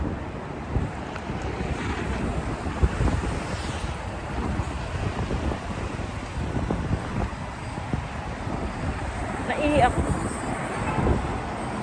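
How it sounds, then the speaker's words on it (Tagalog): Strong wind blows outdoors, buffeting the microphone with a loud, gusty roar that rises and falls throughout. A person talks briefly in the middle. "Sobrang hangin."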